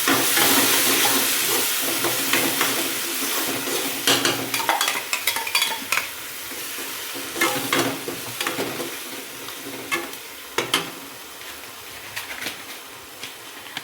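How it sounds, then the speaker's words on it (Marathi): Tomato puree stirred into sautéed onions in a frying pan while cooking chicken tikka masala, giving a steady close sizzle and hiss broken by repeated scraping stirs, with no talking. "आता मी याच्यात आहे ना टोमॅटोची प्युरी जी केलेली आपण तर ती टाकून देते."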